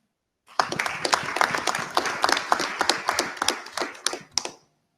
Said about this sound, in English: Let's have a nice round of applause for all of our employees represented by the CSEA.